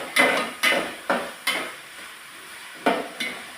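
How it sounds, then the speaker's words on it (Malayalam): Ginger, garlic, tomato and onion sauté in a pan for beef curry, with six sharp rhythmic clacks of a spoon against the pan over a soft, close sizzle. "നന്നായി ഒന്ന് നമുക്ക് ഇത് വാട്ടിയെടുക്കാം."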